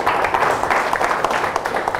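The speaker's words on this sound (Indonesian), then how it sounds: "Tepuk tangan buat Ibu Tuti." An audience applauds at a teaching seminar on public speaking, a steady wash of many hands clapping at moderate loudness, filling the room without speech.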